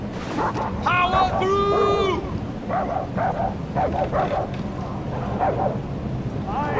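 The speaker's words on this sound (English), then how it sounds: "Bloody dog!" Repeated dog barking in Far Cry 4's Himalayan setting, a series of short yaps running through the middle over a constant low rumble, with a voice calling out near the start.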